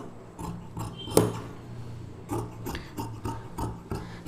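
Scissors snip through lehenga blouse lining fabric in a run of short, separate crisp cuts with small pauses between them, close and fairly quiet.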